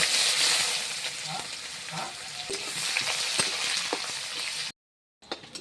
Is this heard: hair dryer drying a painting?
no